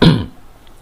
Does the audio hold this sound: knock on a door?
no